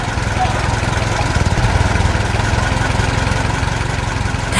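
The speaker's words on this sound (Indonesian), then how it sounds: "lihat traktor merah itu, dia sedang sibuk bekerja dengan alat penggali di belakangnya" A red cartoon tractor's engine chugs steadily at a low, even idle-like rumble while it works with a digging attachment on its back, continuous and fairly loud throughout.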